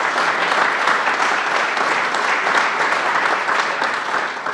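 An audience at a golf learning center dedication applauds Bob Neese with loud, dense, sustained clapping that holds steady throughout and fades slightly at the end.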